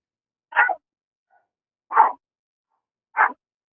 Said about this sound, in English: I have a dog that's kind of sick and he coughs a lot right now